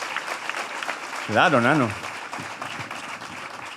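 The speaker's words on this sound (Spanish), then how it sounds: "Un aplauso para él también." Live audience applause during a podcast-style talk show, a steady broadband patter of clapping running underneath a man's brief speech.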